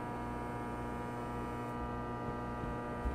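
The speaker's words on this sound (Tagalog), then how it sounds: "Ano yung ingay? May ingay ba? Parang, Oo, pre, parang aircon yata. O electric." Steady air conditioner-like electrical hum in the Escape the Backrooms video game, a constant buzzing mains drone with layered tonal harmonics, faint and unchanging for the whole stretch with no talking.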